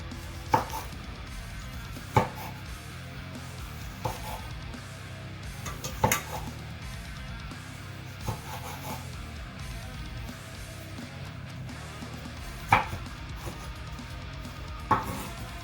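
A knife chops through a large, juicy beefsteak tomato on a board, with sparse, separate sharp taps spaced several seconds apart over a quiet, hushed background.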